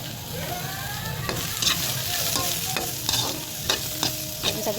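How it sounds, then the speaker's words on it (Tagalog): Carrots and red pepper sauté in a hot pan, a continuous sizzle broken by several sharp scraping stirs of a utensil against the pan, close and moderately loud with no talking. "Gisa-gisahin lang natin yan."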